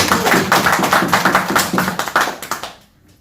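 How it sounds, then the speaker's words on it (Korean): An audience at a company seminar at the Seoul head office claps in uneven bursts, the sharp hand claps close and loud before fading out near the end. "이럴 때 박수 한번 쳐주시고"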